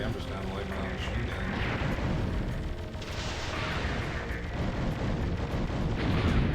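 Rapid machine-gun fire and explosive booms from the Einhander shooter on PlayStation form a dense, continuous barrage that stays loud and close for the whole stretch, with no pauses.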